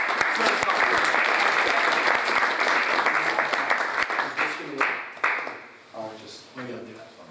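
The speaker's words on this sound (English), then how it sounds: "So please give a round of applause, Jason." Loud, dense applause from a crowd that gradually thins out and fades, with a few voices emerging near the end.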